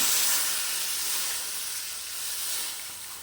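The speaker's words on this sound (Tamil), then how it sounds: "இப்போ தண்ணி சேர்த்துக்கலாம்." Water hits a hot pan of mutton curry and a loud, steady sizzling hiss fills the air, slowly easing off a little toward the end. No voices.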